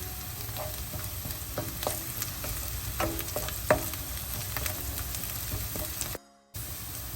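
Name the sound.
chopped chillies added and frying for upma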